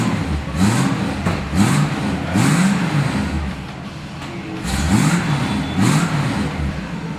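A 1966 Chevrolet Impala SS V8 rumbles and revs up in repeated throaty surges, each rise falling back to a loping idle, loud and close with no talking.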